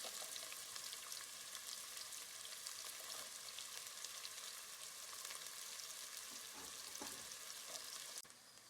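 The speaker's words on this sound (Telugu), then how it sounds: "ముందుగా ఉల్లిగడ్డలు వేసుకుందాం. మంచిగా గోల్డెన్ బ్రౌన్ కలర్ వచ్చేదాకా వేసుకుందాం." Onions sizzling steadily in hot oil with cinnamon and spices for a village-style country chicken curry, a dense continuous frying hiss with occasional faint stirring clinks, close and fairly quiet, no voices.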